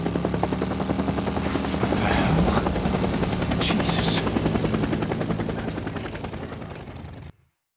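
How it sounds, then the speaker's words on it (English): A helicopter in the video game Days Gone thumps steadily with rapid rotor chop as it flies overhead, loud and close, then cuts off abruptly. "Another Nero chopper."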